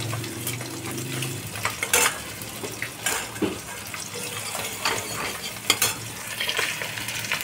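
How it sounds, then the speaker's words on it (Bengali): Spices sauté slowly in oil in a pan over low heat for a vegetarian bottle-gourd-greens chorchori, with a soft sizzle under repeated scraping and stirring strokes close by. "আঁচ কমিয়ে কিন্তু আমি কষছি, দেখো একদম।"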